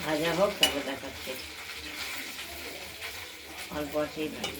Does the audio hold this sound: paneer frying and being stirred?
yes